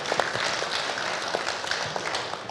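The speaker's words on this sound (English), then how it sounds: "So we'll give them a clap." People at a club meeting give a short round of applause, a dense, moderately loud patter of clapping that fills the brief moment without a clear start or end.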